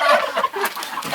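A laying hen in a nest box clucks angrily in short, loud, agitated bursts close by, with no talking over it.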